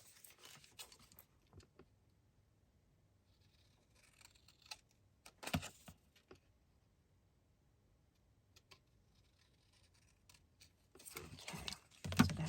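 Scissors snipping paper card pieces for a puzzle card, scattered quiet cuts and taps separated by long near-silent pauses, ending in a busier run of rustling and snips.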